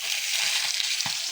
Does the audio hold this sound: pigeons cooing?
no